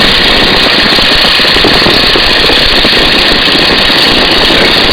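A Stearman biplane's engine drones steadily and loudly after being throttled back to about 1,800 RPM in level flight, with heavy wind noise over the open cockpit and no one talking.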